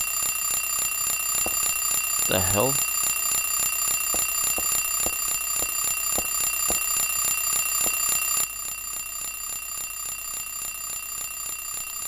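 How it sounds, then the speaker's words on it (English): An alarm clock rings in the Silent Hill 3 video game, a loud, continuous electronic buzzing tone that drones on for about twelve seconds, dropping slightly in level near the end, while a man briefly exclaims over it. "Will you turn off the alarm?"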